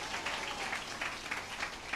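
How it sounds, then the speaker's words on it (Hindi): A congregation claps together at a church service, a brief, steady patter of applause heard faintly from a distance with no voices over it. "जोर से ताली बजा के परमेश्वर को धन्यवाद करें।"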